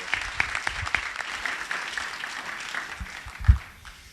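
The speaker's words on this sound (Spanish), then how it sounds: "M'agradaria que feu un fort aplaudiment" Enthusiastic applause from a crowd at a book presentation, steady clapping that gradually thins out, with a thump near the end.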